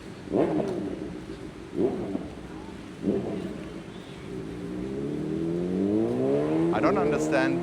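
Motorbikes ride around a neighborhood near Da Nang Beach. Several engine bursts pass at a steady spacing, then a louder drawn-out rising whine builds and sweeps past close by toward the end.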